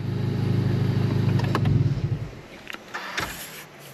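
Honda Civic Type R with a tune and cone filter switched off by push button: a close engine hum that cuts out abruptly, leaving a few clicks and small knocks in a quiet cabin.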